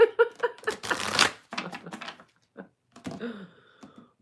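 A deck of playing cards is shuffled up close in a few bursts of riffling, rattling and tapping, with quiet pauses between, and no speech.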